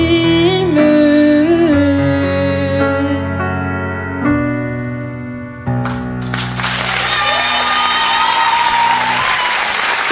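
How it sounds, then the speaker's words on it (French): After a sung performance of a song at a Lycée Millet 2023 school show, the final sustained music notes give way to a loud, dense wave of audience applause that fills the rest of the clip. "Applaudissez bien fort Soleil."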